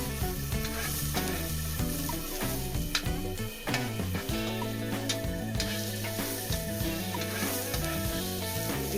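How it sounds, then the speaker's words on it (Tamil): Cashews, raisins and almonds sizzle steadily in a pan while being stirred for rava kesari, a continuous frying hiss running beneath loud background music. "இப்போ முந்திரி, திராட்சை, பாதாம் போட்டு கிண்டி விட்டுடலாம்."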